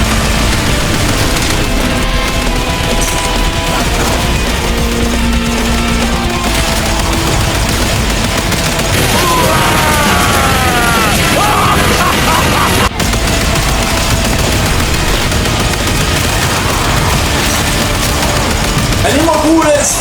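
Archgun fire in Warframe, wielded by Rhino with a multishot, infinite-ammo build: a dense, unbroken roar of rapid shots with booms and impacts layered over music and game effects for the whole stretch.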